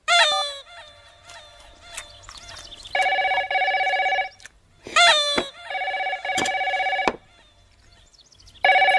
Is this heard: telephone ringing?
yes